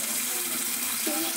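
Warm water runs steadily from a tap into a sink, a continuous hissing splash at moderate distance with no break.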